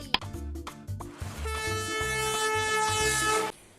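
A train rumbles by with rhythmic clacking wheels, then its horn sounds one long, loud, sustained blast before cutting off.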